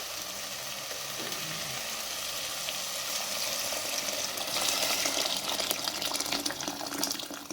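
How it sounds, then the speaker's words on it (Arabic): Water poured into a cooking pot while preparing a Moroccan chili-spiced dish; a steady, continuous rush of liquid, fairly close and unbroken, growing slightly louder toward the end with no talk over it. "دابا غنزيد الماء"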